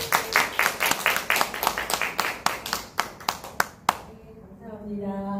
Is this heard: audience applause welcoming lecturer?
yes